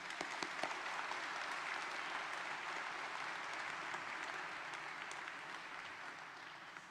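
Applause for a new police chief at a swearing-in ceremony: a broad, steady wash of many hands clapping, heard from some distance and fading slightly toward the end.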